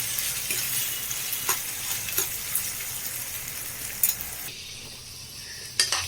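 Toor dal, chickpeas, peas and broad beans cook in a pan for Maharashtrian Bhogi bhaji, giving a steady sizzling hiss broken by occasional sharp stirring clatters and scrapes, fairly close and without voices.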